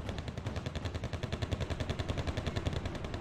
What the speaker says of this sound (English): It's another Vulcan minigun. That's going to be absolutely annihilating those aircraft